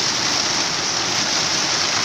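Heavy rain pours down in a dense, loud, unbroken hiss with no break, sounding close and steady, with no voices.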